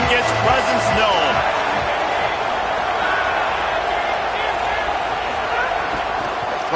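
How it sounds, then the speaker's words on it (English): A large football stadium crowd roars steadily at a college game against Tennessee Tech, a loud sustained wash of cheering with no clear breaks, while an announcer talks over it. "This crowd ready to make its presence known"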